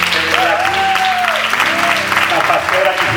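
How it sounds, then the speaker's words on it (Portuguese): A church congregation applauds a visiting pastor, a dense, loud wash of clapping under an amplified voice and a brief sung or drawn-out tone. "un aplauso al pastor Antonio desde Brasil."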